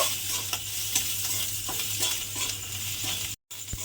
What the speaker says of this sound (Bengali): এইবারে এই মশলাটা আমি একটু কষিয়ে নেব।